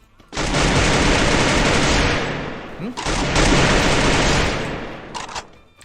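Free Fire video game gunfire: long dense bursts of rapid automatic shots, loud and close, broken by a brief pause and a few trailing shots near the end, with no clear speech.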